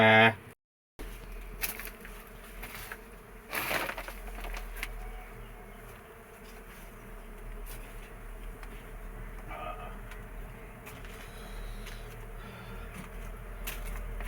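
Dwarf honey bees buzz around their colony, a faint, continuous hum from many insects in a quiet outdoor setting, with a brief louder knock near the start.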